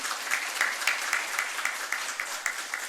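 Crowd applause at an inauguration ceremony for a state solar energy policy, steady clapping at moderate distance with individual claps standing out in a regular pulse.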